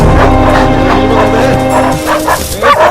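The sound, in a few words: dogs barking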